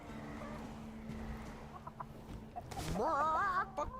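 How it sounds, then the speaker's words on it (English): Clucking chicken in the game Tainted Grail: Fall of Avalon, a series of short close clucks that rise into a louder, wavering squawk near the end over faint background ambience. "I'm talking to a chicken."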